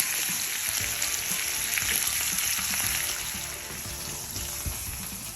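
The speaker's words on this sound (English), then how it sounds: "we're going to place the steak straight into the pan and colour on both sides" A porterhouse steak sears in a hot pan, giving a loud, continuous sizzle and crackle close up with scattered pops, steady throughout and gradually easing a little toward the end.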